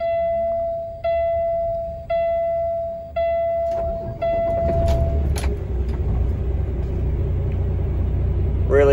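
A 2017 Kenworth T880 daycab truck engine starts after several short cranking attempts, then catches and settles into a steady, loud, low diesel idle rumble close by.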